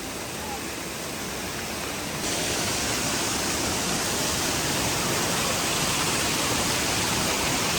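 Broad, steady roar of a waterfall near Pale village, loud and close, swelling slightly after a couple of seconds and continuing unbroken.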